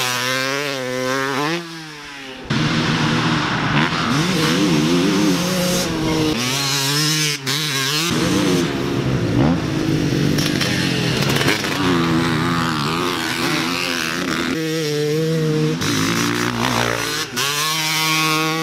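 Motorcycle engine revving hard and accelerating around a corner on a riding outing, loud and close, with the pitch climbing and dropping through gear changes and throttle bursts for most of the stretch.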